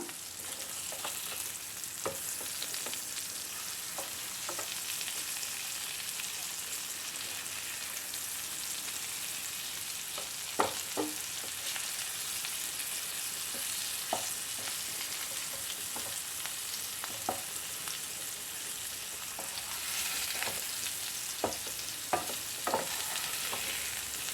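Sardines for a fish pickle fry in a pan with a steady, close sizzle, broken by occasional sharp spatula clicks and scrapes as the pieces are turned; no voices.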